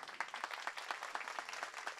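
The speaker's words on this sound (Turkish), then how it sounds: "Sayın hocama huzurlarınızda kocaman bir alkış alabilir miyim?" Audience at a book festival talk in Beylikdüzü giving a round of applause: quick, evenly spread clapping from a crowd, fairly faint and distant, continuing throughout.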